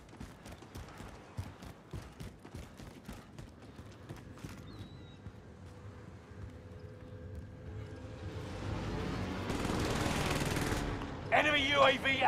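Gunfire in a battle royale video game, a long run of sharp, rapid shots in close-spaced volleys, shifting to a denser roar of fire and noise toward the end.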